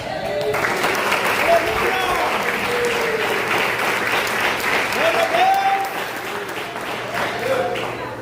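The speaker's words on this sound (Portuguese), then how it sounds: "Louve Jesus com palmas" A church congregation claps steadily in praise, a dense, loud, sustained wash of applause with voices rising faintly over it throughout.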